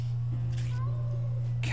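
A cat meows in the video game Grim Fandango, a short mewing cry set against a constant low electrical hum and game ambience.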